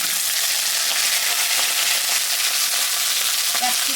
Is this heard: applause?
no